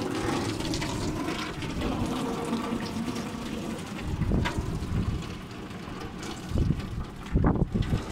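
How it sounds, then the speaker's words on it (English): Strong gusty wind during a rain squall in Storm Ciara buffets the microphone in a steady roar, with louder bursts surging near the end amid a rushing, water-like wash of heavy rain. "Now it's starting to get really windy again."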